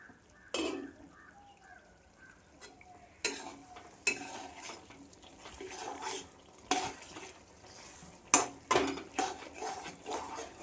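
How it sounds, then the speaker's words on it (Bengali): Spiced pigeon meat cooks in a wok, a low sizzle and bubbling under frequent clattering strokes of a spatula stirring and scraping the pan, close by and fairly quiet. "মাংস এবং মশলাগুলো দুটোই এখন খুব ভালোভাবে গরম হয়ে গেছে এবং ফুটে উঠেছে।"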